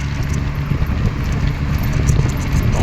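A car travelling along an empty road at night, a steady, close engine and road rumble with a constant wash of wind noise and no voices.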